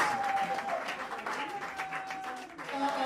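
An audience claps at the 12th anniversary celebration of the media outlet Liberté Plus, producing a sustained wash of applause with a voice speaking over it and a faint held tone running through.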